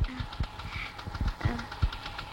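A scooter engine idles with an uneven, knocking putter, irregular low thumps at close range, fairly quiet.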